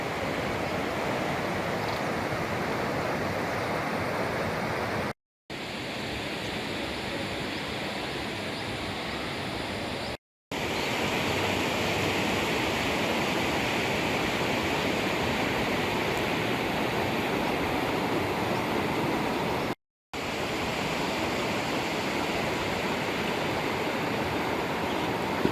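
Torrential downpour at dawn in Savli, a dense, steady roar of heavy rain continuing unbroken, with brief cuts between stretches and no voices.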